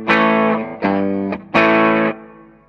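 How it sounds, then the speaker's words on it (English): An electric guitar plays through an amp's clean channel: three sustained, ringing chords strummed one after another, each bright and harmonically rich, with short gaps between and a fading tail at the end. "I'm back to the clean channel on the amp, so it sounds like this."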